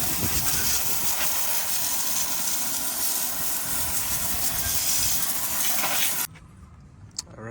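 A loud, steady spray of water hisses hard against a car wheel, rinsing off wheel cleaner that has been loosening brake dust and road grime, then cuts off abruptly near the end, leaving faint dripping.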